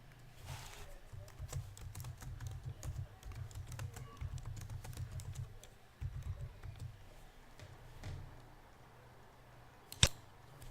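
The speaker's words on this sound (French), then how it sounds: "On fait un double clic sur le texte et on tape ce que l'on désire." Steady soft typing on a computer keyboard, quick light keystrokes at close range for about ten seconds, pausing briefly, then a single sharper click near the end.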